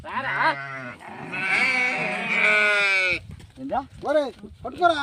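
Sheep in a village flock of pregnant ewes let out long, quavering bleats up close, one drawn-out cry followed by shorter calls, with people talking over them.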